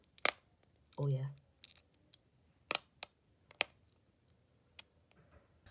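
Small half-ounce platinum Britannia coins clink sharply several times with quiet pauses between, close and crisp, with a brief hum-like sound early on.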